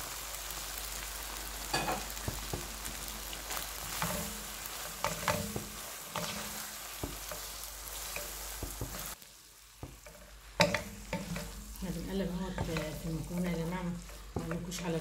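Pasta is stirred and fried in a ketchup and harissa sauce in a pan, giving a steady quiet sizzle with repeated scraping stirs and a short lull partway through.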